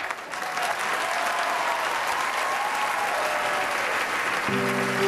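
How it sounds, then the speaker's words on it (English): An audience at an American Cinematheque tribute event for Steve Martin applauds in a full, sustained roar of clapping that holds steady and loud for the whole stretch, with a faint tonal sound entering near the end. "tonight, they don't have to hold their applause anymore"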